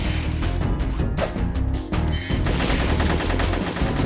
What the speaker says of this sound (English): these Norks here have Dorito shooting machine guns